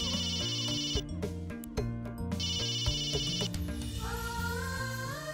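A telephone rings with repeated electronic trills over a musical drama score, the rings coming in bursts separated by short pauses.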